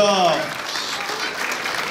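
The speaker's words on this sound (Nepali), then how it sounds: "ल चिफ गेस्टलाई, प्रमुख अतिथिज्यूलाई चाहिँ जोरदार ताली" An audience at a Kirat cultural program in Columbus, Ohio claps for the chief guest, a brief dense burst of applause that follows the end of a voice and continues steadily.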